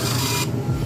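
A Bluetooth printer prints a voucher in a short, loud mechanical buzz that cuts off abruptly halfway through, leaving a lower hum.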